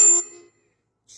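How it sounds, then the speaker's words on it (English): A single bright phone notification ding rings out in a home kitchen during dinner cooking, loud and close, then fades quickly into silence before a brief faint sound at the end. "That was my phone."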